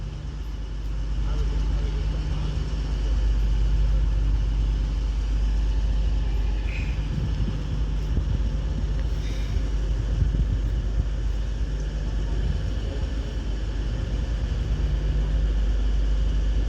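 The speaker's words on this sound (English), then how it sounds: "Now arriving into platform 6 is going to be another Avanti West Coast class 390 Prideolino, which is heading off to London Euston." An Avanti West Coast class 390 Pendolino electric train arrives at a platform in Crewe, a loud steady low rumble and roar of the passing train filling the scene throughout.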